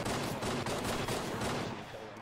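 Dense rapid gunfire in a Halo roleplay game in Garry's Mod, continuous loud automatic bursts crowding the whole moment, easing slightly at the end.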